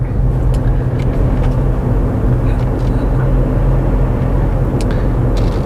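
A stage 1 remapped VW Up GTI accelerating hard in third gear from 20 mph gives a loud, steady low engine drone with road rumble close up inside the cabin.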